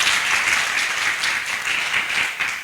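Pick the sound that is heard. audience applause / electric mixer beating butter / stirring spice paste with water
audience applause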